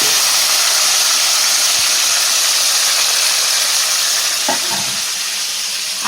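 Tomatoes fry in a pan with onions for a mango chicken fry, a loud, steady close sizzle and hiss with occasional faint stirring scrapes and no talking.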